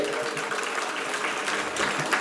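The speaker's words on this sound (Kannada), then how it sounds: "ಇನ್ನೂ ಜೋರಾದ ಚಪ್ಪಾಳೆ ರಮೇಶ್ ಅರವಿಂದ್ ಅವರಿಗೆ" Loud, dense applause from a crowd welcoming Ramesh Aravind at the inauguration of the expanded Muliya Gold and Diamonds showroom in Belthangady, sustained throughout with no break.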